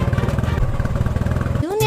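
A 220 motorcycle rides up in a movie scene, its engine putting out a steady rhythmic low chugging putter that cuts off abruptly near the end as a voice breaks in.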